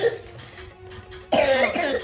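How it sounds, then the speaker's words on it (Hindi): A person with a cold coughs, a few rough coughs followed by a louder, harsher burst, close and alone without talk. "सुन सकते कैसन खांसा थे, एकदम सर्दी खांसी पूरा ज़्यादा वो बढ़ गई है।"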